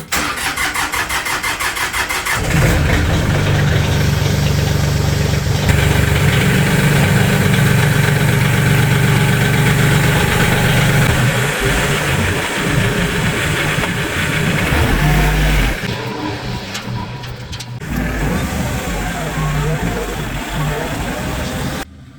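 An LS tractor engine cranks and catches after a couple of seconds, then idles and runs loud and close with a steady rumble, shifting in tone briefly near the end.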